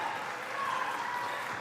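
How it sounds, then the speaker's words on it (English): Applause from Goshen students in the stands at a high school basketball game against Elkhart, a steady, dense wash of clapping heard from a distance, with no talk over it. "Goshen students applauding the defensive effort of their teammates."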